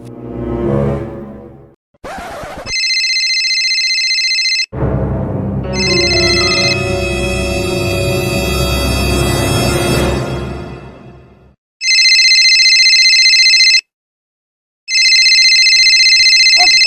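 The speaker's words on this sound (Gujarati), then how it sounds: "આ કોના ફોન વાગે છે?" A mobile phone rings with a bright electronic ringtone that comes in repeated bursts separated by short pauses, playing loud and close, with no talking over it.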